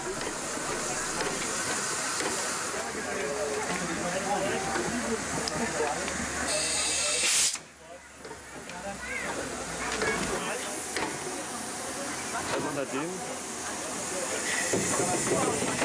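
Steam locomotive 86 457, a Baureihe 86 engine, passes the disused Klettkamp station near Lütjenburg with a loud, continuous steam hiss and rail noise, then a sudden drop before the hissing and rumble resume.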